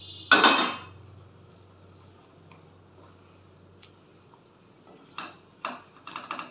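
Pointed gourds (potol) tipped into a cooking pot of rezala gravy: one sharp metallic clatter at the start, then quiet with a few light scraping clinks of utensil against pan near the end.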